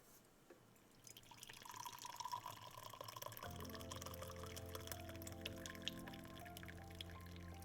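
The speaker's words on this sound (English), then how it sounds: "I'm going to pour myself a little cup of tea" Tea pours into a small cup, a soft trickle at first that turns into a steady, rising fill close by, with no talking.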